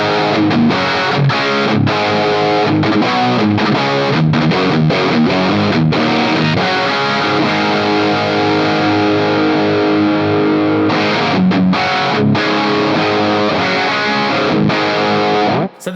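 Electric guitar played through a Marshall Guv'nor distortion pedal into a Fender-style amp, with loud, crunchy overdriven chords and riffs strummed in choppy bursts and brief pauses for about sixteen seconds.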